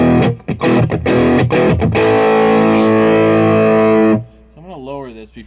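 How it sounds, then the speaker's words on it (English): Electric guitar played through an amp on its first overdrive channel, gritty sustained chords with a few choppy strums at first, then a long ringing held chord that cuts off, followed by a quieter bending note. "this is overdrive 1. It's a little more subtle than when I push the button in, which is like super overdrive"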